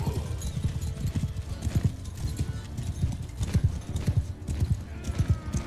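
Horse hooves clip-clop steadily in Mount and Blade II: Bannerlord, a close, regular rhythmic clatter of hoofbeats that runs continuously with an occasional whinny-like tone.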